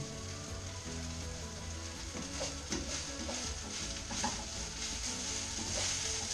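Fried rice being stirred in an oiled pan, a steady close sizzle with scraping and tapping strokes running throughout and no one talking.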